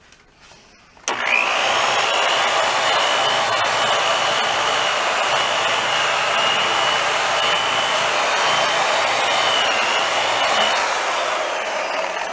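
A buffing wheel runs on a 1938 Leedy Broadway Parallel snare drum shell during restoration, starting up after a brief quiet moment and then holding a loud, steady whirring hum to the end.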